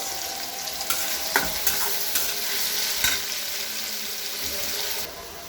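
Onions and green chilies sizzle steadily in a hot pan, with a few sharp stirring scrapes and clinks cutting through the constant frying hiss. No one speaks.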